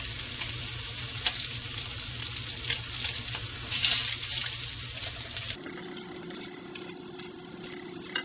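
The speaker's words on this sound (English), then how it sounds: "I'm gonna add that beef smoked sausage to the pan, and I'm gonna give that a quick sear" Beef smoked sausage sears in a pan while making chicken cacciatore, producing a continuous close crackling sizzle with scattered stirring clicks; midway a steady hum takes over under the frying.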